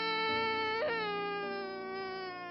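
A voice imitates sobbing and crying for a crying empty condensed milk tin in a Spanish-language children's story, a sustained, wavering, nasal wail with a brief catch partway through.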